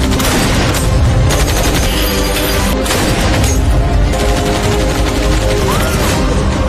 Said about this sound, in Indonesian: pertempuran sengit antara Dayong yang hanya membawa senjata sniper jadul melawan John dan expert yang membawa tank baja pun berlangsung sengit